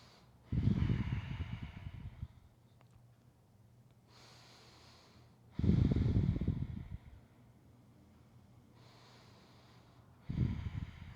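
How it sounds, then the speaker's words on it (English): Slow, deep breaths during a yoga twist, three long audible exhales spaced several seconds apart, close and soft with quiet pauses between. "and breathe"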